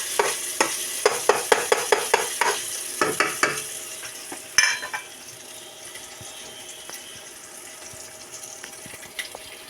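Carbonara toppings frying in a pan until brown: a rapid series of sharp clatters and scrapes over a steady sizzle, then a running-water wash that fades to a quieter background hiss, no talk.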